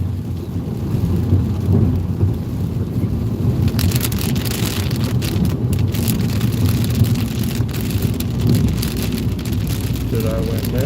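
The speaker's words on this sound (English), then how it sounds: "Or there might be a thunderstorm coming." Thunderstorm with rain during a storm chase in Indiana, heard from a vehicle: a steady wash of rain and low rumbling, with bursts of louder hiss and crackle partway through, no talk.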